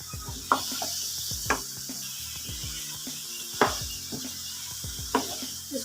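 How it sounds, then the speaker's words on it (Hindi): Potatoes cooking in a pan with spinach, a soft steady sizzle with periodic clinks and scrapes of a utensil against the pan, recurring about every second, fairly close and without talk. "5 मिनट के बाद आलू ऐड कर रही हूँ।"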